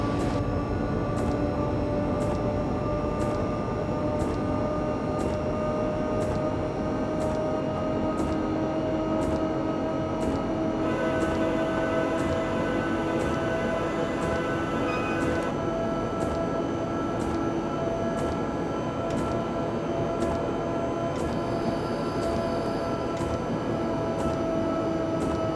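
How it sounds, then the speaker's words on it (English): 6E1 electric locomotive in Train Simulator 2015 on the Pietermaritzburg to Ladysmith line in South Africa, a steady rumbling drive with a sustained electric whine and regular rhythmic clicks of wheels over rail joints, no voices. "it's got some nice sounds, this loco"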